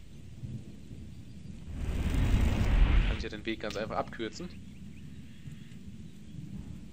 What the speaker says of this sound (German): Nein, Unwetter hier.